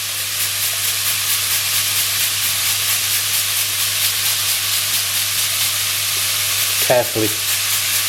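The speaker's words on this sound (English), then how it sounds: "I'm going to grate the onion inside" Onion grated straight into a hot frying pan for a cottage pie, giving a steady, close sizzle and frying hiss throughout, with a short clatter of the grater near the end and a single brief spoken word.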